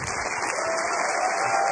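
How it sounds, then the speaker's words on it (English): Steady applause from an audience, a dense wash of clapping that holds evenly throughout. "I measure the amount of applause so I can see whether I'm performing better or not"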